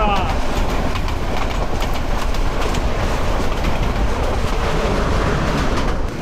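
Chattala Express train pulling into Narsingdi railway station, a dense continuous rolling rumble and rattle of cars close by, with faint voices mixed under the noise.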